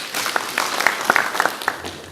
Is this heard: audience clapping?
yes